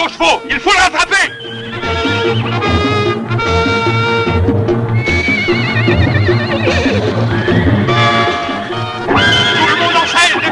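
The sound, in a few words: horses neighing and galloping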